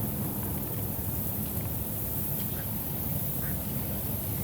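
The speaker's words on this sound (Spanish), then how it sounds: "hay algunos patos por allá atrás" Ducks quack faintly in the distance behind a canoe on the water in Missouri along Route 66, a few short calls nearly buried under steady broadband wind or engine rumble.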